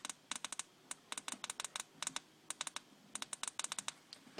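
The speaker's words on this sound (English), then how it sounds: "If you have a keyboard on your phone and it clicks, I really recommend not to use it." A phone keyboard clicks while someone texts, quick bursts of faint sharp taps in uneven clusters with short pauses between, close and alone with no talk.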